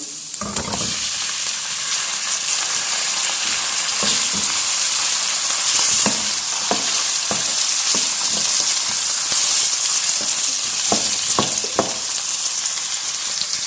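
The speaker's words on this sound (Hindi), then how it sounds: "चिकन को हम तब तक पकाएंगे जब तक कि इसका पानी ड्राई हो जाए" Chicken pieces fry with browned garlic in an oiled pan for a chicken masala fry. A loud, continuous sizzle is broken by repeated scraping stirs of a spoon against the pan.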